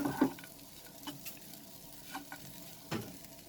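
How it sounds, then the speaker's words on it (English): Sooji upma mixed and cooked in a pan, quiet grainy sizzling with a series of light scrapes and taps from stirring, scattered irregularly, close but faint, no speech. "And now I will mix this and cook for another 2 minutes."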